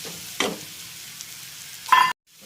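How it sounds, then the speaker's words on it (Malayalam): Chicken fries in a pan with curry leaves for a thattukada-style dish, a soft steady sizzle broken by two brief scraping stirs, close by. "ഇനി നമുക്ക് അതിലേക്ക് കുറച്ച് കരിയാപ്പലയും കൂടി ഇട്ട് ഇളക്കി നല്ല രുചിക്ക് വേണ്ടിയിട്ടാണ് ഇളക്കിയെടുക്കാം"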